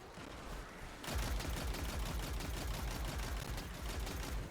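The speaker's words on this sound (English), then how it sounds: "clearing all the ads with my machine gun" Sustained machine gun fire in Destiny 2 rattles in a rapid, even burst after a brief lull, loud and close with no talk over it.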